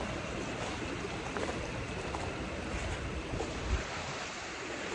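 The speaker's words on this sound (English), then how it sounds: "This stream here is from the spring." Spring-fed stream water flowing steadily near a dam and lower falls, a continuous broadband rush with a little wind on the microphone and no talk.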